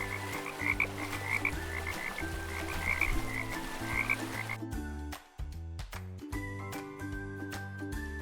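Frogs croak in a steady, repetitive chorus, fairly faint, with a brief dip near the middle before the calling resumes.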